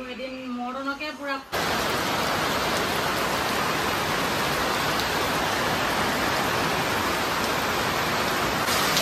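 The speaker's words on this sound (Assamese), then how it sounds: "যি বৰষুণ ষ্টাৰ্ট হ'ল বৰষুণ দিয়ে আছে" Heavy rain pours down in a constant, loud hiss that holds steady for about seven seconds, after a brief voice at the very start.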